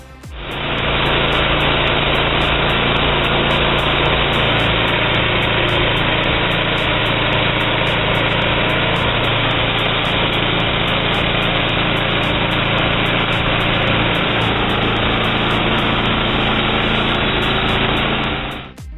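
A homemade bandsaw's 20-horsepower engine drones loudly, steadily and continuously for the whole stretch, a dense, unchanging roar with no voices.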